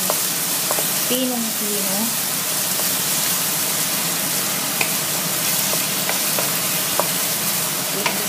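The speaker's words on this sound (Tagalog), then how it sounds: "Ibigisa po natin siya." Finely chopped onion and garlic sautéing in a pan with a loud, steady hiss and crackle, occasional sharp pops and a brief spoken word over it.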